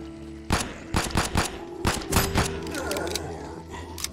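Gunfire in the zombie survival video game 10 Miles to Safety: a rapid series of loud, sharp shots in uneven bursts over steady in-game background ambience.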